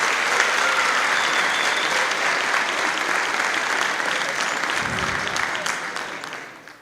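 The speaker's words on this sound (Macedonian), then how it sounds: "Уште еднаш да ги поздравиме со еден огромен аплауз." Sustained audience applause for a Latino band from Poreč at an evening harvest beauty pageant during the Kočani rice festival, a dense, even wash of many clapping hands that stays loud throughout, then tapers off at the end.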